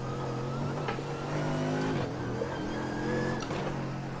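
Mercedes race car in iRacing at Sebring, its engine droning steadily with shifting pitch as it rises and falls through throttle changes, loud and continuous with no talk.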